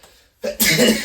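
A single human sneeze in casual conversation: a brief quiet intake, then a sharp, loud burst that trails off quickly, heard close and alone.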